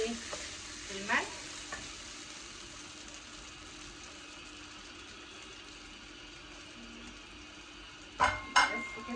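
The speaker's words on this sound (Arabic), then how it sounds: "هنا بقى اهو كده هو الرز اهو بيتسوى" Rice cooks in a pot with a quiet, continuous simmering hiss, broken by a few brief clinks of stirring near the start and a sharper cluster of scraping knocks near the end.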